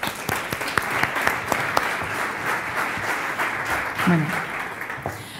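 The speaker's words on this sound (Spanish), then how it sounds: "Gracias, un aplauso para ellos." Conference audience gives sustained applause in a hall, with some sharp individual claps standing out, and a short spoken word near the end.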